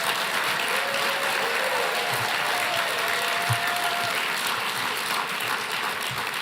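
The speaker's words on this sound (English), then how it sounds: "Let's give him another round of applause" Applause at an anniversary celebration of the sit-ins, a continuous dense roar of clapping from a large audience. It holds steady throughout with no speech over it.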